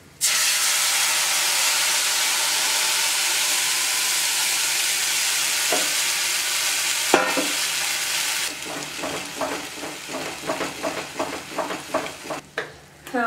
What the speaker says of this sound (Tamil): மோர் விட்டு கலந்து வச்ச கோதுமாவு கலவையை இதில் போட்டுடலாம்